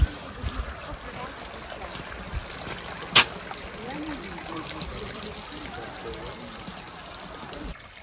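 Steady trickling spring water runs throughout at the Dustyn springs near Truskavets, a soft continuous flow with a brief sharp click partway through.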